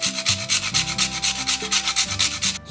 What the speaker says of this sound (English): so I'll be grating half of this nutmeg